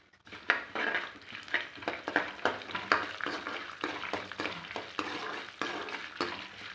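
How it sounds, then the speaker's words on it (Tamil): Coriander seeds and cumin toast on low heat, with a rapid run of scraping spoon strokes against the pan over a faint crackle. Close by, with no talking. "இதை ஒரு ரெண்டு நிமிஷம் போல் சிம்மில் வச்சுக்கிட்டே ஃப்ரை பண்ணிக்கலாம் வறுத்துக்கலாம்"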